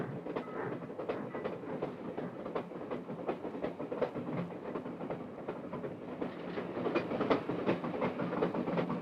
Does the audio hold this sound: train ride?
yes